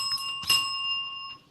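A small hand bell is struck once, close and clear, its bright metallic ring sustaining and slowly fading.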